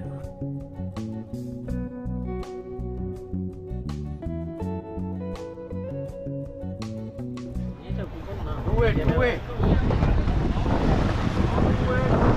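A launch boat travelling near Coral Island. Steady tonal music plays for most of the clip before giving way to loud, rushing wind and water noise from the moving boat.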